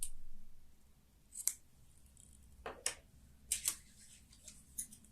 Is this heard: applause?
no